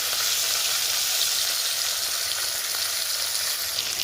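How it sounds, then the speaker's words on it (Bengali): Gurjali fish frying in hot oil in a pan, a loud, steady, dense sizzle that continues unbroken with no voices. "এবার একে একে মাছগুলো দিয়ে ভালো করে ভেজে নেব"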